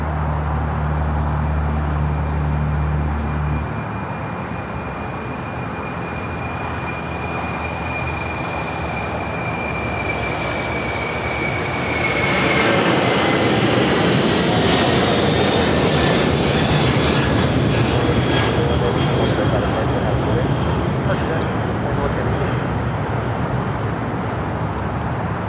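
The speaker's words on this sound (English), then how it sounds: "We have that Apex Logistics Queen now rolling on 25 left, taking off to Seoul" A cargo jet bound for Seoul roars down a runway at LAX on its takeoff roll, a loud, sustained engine rumble that swells and brightens midway as thrust builds, with no voices over it.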